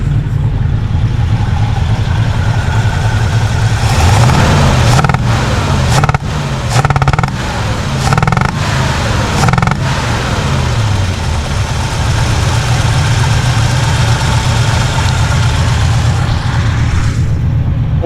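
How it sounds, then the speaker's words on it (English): A 1967 Chevy engine with a stuck or leaking intake valve idles steadily up close. Irregular pops and sputters break through the rumble for a few seconds midway before it settles back to an even run. "Sounds good at the exhaust, but that popping through the intake, that's showing it's got a stuck intake valve"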